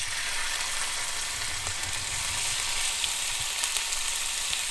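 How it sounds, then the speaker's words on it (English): Slices of liver frying in hot tallow over medium heat, a steady close broadband sizzle with faint crackles throughout, no voices. "put these slices of liver in there to fry"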